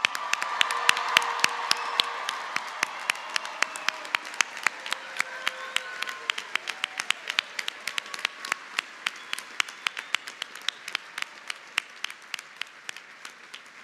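Graduates and guests at a college commencement ceremony clapping, a dense burst of applause that fades into steady scattered individual claps, with faint voices underneath.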